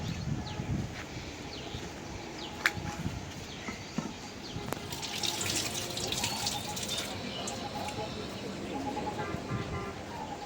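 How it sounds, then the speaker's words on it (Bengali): Cut chillies being rinsed under a running kitchen tap, with water splashing and dripping steadily into a sink, close and continuous, with a few sharper knocks and clatters along the way. "মরিচ কাটা ধুয়ে রাখলাম"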